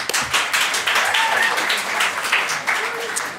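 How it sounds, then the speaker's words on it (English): Applause from the audience at a student union question time for the Events & Trading Officer and Union Chair, a dense, steady wash of clapping that fills the room for a few seconds. "Round of applause."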